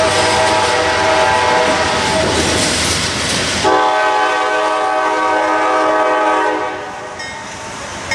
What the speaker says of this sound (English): CX empty coal train.